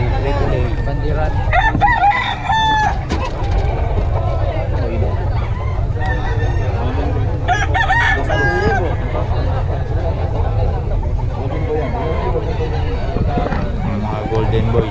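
Gamefowl roosters of the golden boy and sweater breeds crow repeatedly over one another, some near and some farther off, with scattered clucks and people talking in the background.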